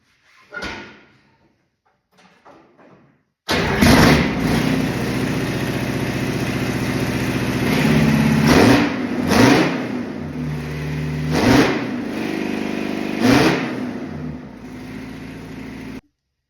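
Detroit 8V-71 two-stroke diesel repowering a John Deere 5020 tractor. Faint clicks and cranking give way to a sudden loud start, then a gruff, steady idle with several throttle blips rising and falling, close up.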